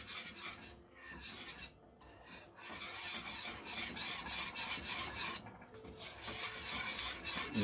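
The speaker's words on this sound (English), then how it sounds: "I'm adding some milk to the porridge and give it a whisk" A whisk working milk into cornmeal porridge in a pot, brisk rhythmic scraping and rasping strokes repeating close up, with brief pauses between bursts.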